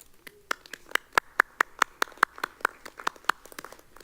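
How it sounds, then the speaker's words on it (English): Audience at a school board meeting giving a round of applause, heard as a sparse run of distinct individual claps, fairly close and crisp, a few people clapping irregularly rather than a full crowd. "Please join me in a round of applause."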